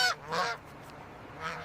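Snow geese honking in a flock, a few loud nasal calls close by with short gaps between them.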